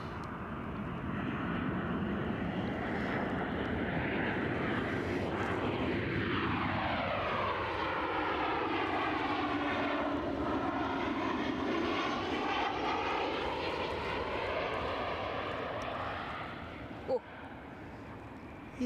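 A Ryanair airliner at Edinburgh Airport roars past, its loud steady engine drone sweeping down in pitch as it passes, sustained for most of the time, with a voice briefly heard underneath.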